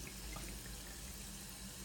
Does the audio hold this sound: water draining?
yes